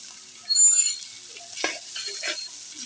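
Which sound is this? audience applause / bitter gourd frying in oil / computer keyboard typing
bitter gourd frying in oil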